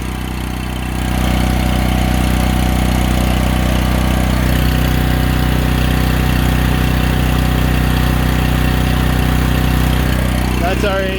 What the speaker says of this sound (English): Put the engine at full RPM.